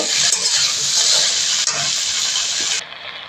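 Loud, hissing sizzle of chopped potatoes and tomatoes frying in a pan, with light stirring scrapes, cutting off sharply near the end.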